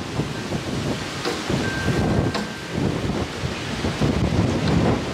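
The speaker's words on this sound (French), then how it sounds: "Voilà, la tempête." Strong gusting wind roars through a storm, buffeting steadily with heavy low rumble and surges, loud and close throughout with no talking.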